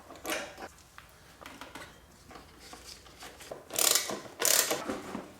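A ratchet tightening the fuel tank bolt on a 2023 Honda XR650L motorcycle, bursts of rapid close clicking with short pauses between, loudest in two strong bursts near the end.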